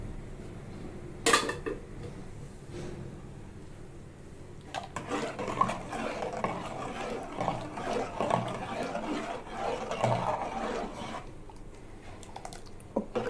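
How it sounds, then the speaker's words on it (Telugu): Flour batter for carrot vadiyalu is stirred in a bowl, with a clank at the start, then a run of wet, squelching mixing strokes and light scrapes from mid-clip onward, close and moderately loud. "ఇప్పుడు నేను ఉండలు కట్టకుండా కలుపుకోవాలండి పిండి."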